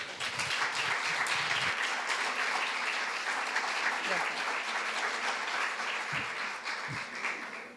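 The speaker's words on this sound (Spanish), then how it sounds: "Un fuerte aplauso." An audience at a university lecture claps steadily for several seconds, a dense even wash of applause that tapers slightly near the end.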